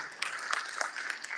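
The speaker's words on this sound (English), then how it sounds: "Big round of applause for all our candidates." Audience at a county candidates forum in the Mississippi Delta gives a round of applause, a soft, fairly distant, steady patter of many hands clapping.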